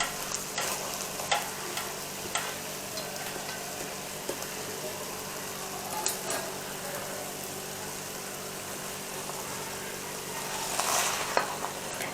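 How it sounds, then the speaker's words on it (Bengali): Boiled rice being stirred into an almost-cooked curry in a pan for a Jamaican rice dish with shrimp and chicken, giving a steady soft scraping and sizzling texture with occasional spoon knocks, close and moderately quiet. "নেড়ে চেলে ভালো মতো এটার সাথে মিক্স করতে হবে।"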